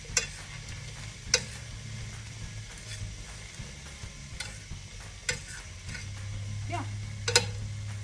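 Shrimp cook in a pan for seafood lasagna, giving a soft, steady sizzle with occasional clicks of a utensil against the pan, close and fairly quiet.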